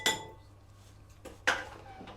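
Butter and sugar being mixed in a mixing bowl for a traditional Christmas cake, with two bright clinks of utensil against the bowl separated by a quieter scrape.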